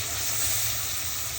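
Garlic frying in a pan as the base for a prawn curry with taro, a steady, even sizzle that fills the whole moment without pause.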